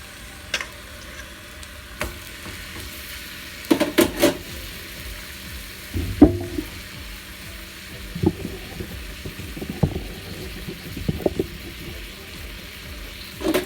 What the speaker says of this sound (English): Then I put the next set of ribs in to fry on both sides